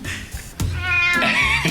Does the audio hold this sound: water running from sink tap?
no